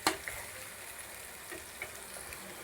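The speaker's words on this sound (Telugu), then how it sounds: "వేసుకొని ఈ విధంగా కలుపుకోవాలి." Chopped goat blood stirs through hot oil in a pan, giving a steady, hissing fry with a few light utensil scrapes across the whole stretch.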